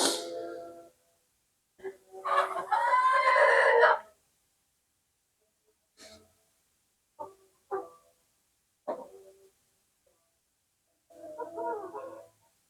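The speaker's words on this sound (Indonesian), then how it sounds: "Dan ini ayam" Chickens on an Indonesian poultry farm, a flock of birds about seven months old, give a few scattered clucks and one longer crowing call near the start, with quiet gaps between the short bursts.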